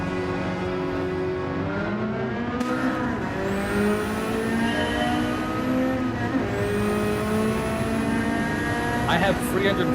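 Race car engines whine and rev in a racing video game, a steady layered drone with gear shifts and pitch rises, heard under ongoing talk.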